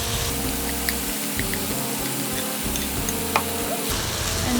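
Golden egg fried rice being stir-fried in a pan gives a steady close sizzle, with scraping and occasional clinks of the spatula as it is tossed and mixed, no voices.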